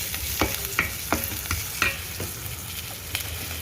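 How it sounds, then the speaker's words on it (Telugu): Green chilies and a pinch of turmeric frying in oil in an AMC cookware pan, a steady hiss broken by several sharp scraping stirs at a fairly regular pace, close and moderately loud with no talking. "నేను పచ్చిమిరపకాయలు వేస్తానండి."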